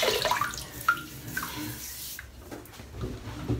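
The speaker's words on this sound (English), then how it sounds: "So I'm just going to wet my head" Tap water running and splashing as a head is wetted before a shave, a soft close trickle with small drips and splashes.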